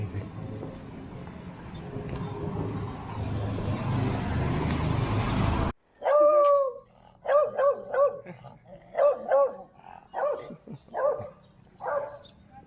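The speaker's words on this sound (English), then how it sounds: "Two beagles." Two beagles bark in a burst of sharp, repeated yelps and barks close by, following several seconds of steady street traffic rumble that cuts off abruptly.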